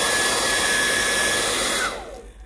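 Heat blower warming the battery back cover of a Motorola Android One phone during a charging board repair, a loud steady close airy roar with a faint whine that cuts off near the end.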